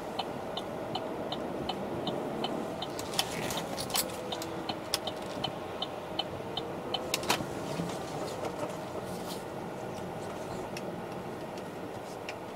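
Chevrolet Aveo hatchback with a manual gearbox droning steadily from inside the cabin while driving, a continuous low engine and road hum with faint ticking clicks on top.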